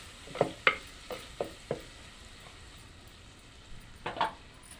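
Onion curry with turmeric being stirred in a pan, a series of quick rhythmic scraping strokes from a spoon, then a pause and two more strokes, close and moderately quiet.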